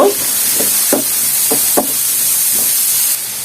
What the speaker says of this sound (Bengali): এখন আমি কিছু পেঁয়াজ এবং চিংড়ি মাছটা দিয়ে দেব, এগুলো একটু ভেজে নেব।